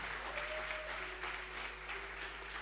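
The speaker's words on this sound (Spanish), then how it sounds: "Dele fuerte ese aplauso a Dios." A church congregation claps in praise during a sermon, a faint, steady patter of applause under a low hum and sustained organ-like tones.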